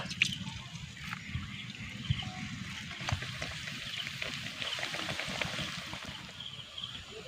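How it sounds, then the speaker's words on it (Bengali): Palm (taal) pitha frying in hot oil, a continuous bubbling sizzle with scattered crackles and pops that stays close and fairly soft throughout. "একইভাবে কিন্তু এগুলোকেও আমি ভেজে নিচ্ছি"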